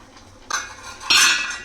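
A utensil scrapes and clinks against a metal pot while stirring a sorghum flour mixture for jonna java, two short bursts of close, bright scraping over quiet background.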